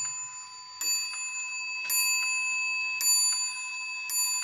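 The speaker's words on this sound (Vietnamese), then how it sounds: "Đó, chuông đang đánh nè" A German wall clock strikes twelve, sounding bright metallic chimes at roughly one-second intervals over a steady ticking, heard close in a quiet room.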